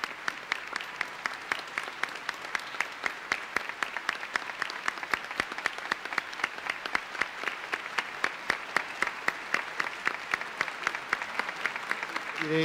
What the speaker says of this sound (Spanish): Con un caluroso aplauso, el pueblo de Dios de la Arquidiócesis de Buenos Aires recibe en este momento a su nuevo